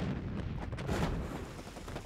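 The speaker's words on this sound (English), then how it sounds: "Already they could hear the explosions of the preliminary Allied artillery barrage." An artillery barrage rumbles as a continuous, heavy roll of distant booms and blasts, dense and unbroken for the whole short stretch.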